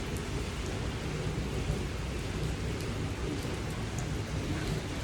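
Heavy rain pouring steadily in Dubai during a storm, a dense close hiss with a low, continuous rumble of thunder beneath it and no voices.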